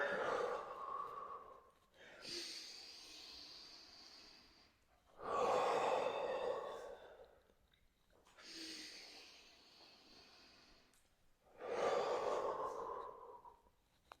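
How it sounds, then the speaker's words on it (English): Slow, deep breaths during a wrist-stretching exercise: loud, close inhales and exhales alternate in about four long, airy phases with short pauses between, heard alone without speech. "Breathe in as you come back, exhale forward."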